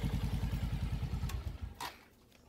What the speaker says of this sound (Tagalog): Merong umuhuni rin sa makina.